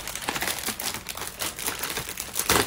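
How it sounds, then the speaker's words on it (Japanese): Crinkly plastic gift wrapping on a present from a fan is handled and opened, giving continuous close rustling and crackling with a louder burst of crinkles at the end. "開封したいと思います。"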